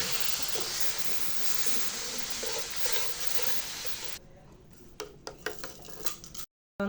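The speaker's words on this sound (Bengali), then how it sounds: "এখন সুজিটি ভাজা হয়ে গেছে, তার মধ্যে পরিমাণ মতো দুধ দিতে হবে" Milk poured into fried semolina for sooji halwa hits a hot pan with a steady, loud sizzle and bubbling hiss that quiets partway through, followed by scattered clicks and stirring taps.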